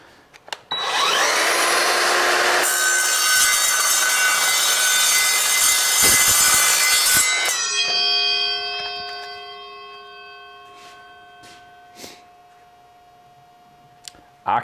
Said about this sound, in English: I'm gonna hold it too, but what I wanna do is just cut a little bit off the end here.